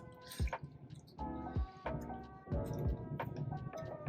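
Canned fruit with its juice dumped from the can into a baking dish for a dump cake, giving a few close wet plops and drips followed by squishy sloshing liquid, with no talking.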